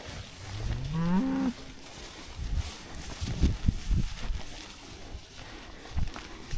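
Cattle in a rain-soaked grass pasture give one long, rising moo up close, followed by scattered low thumps and rustling.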